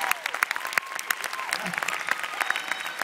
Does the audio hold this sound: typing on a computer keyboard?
no